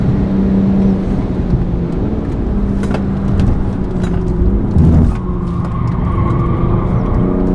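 A 2022 BMW M240i xDrive engine drones loudly and steadily while driving at speed on a track, with a slight shift in pitch midway and no talk.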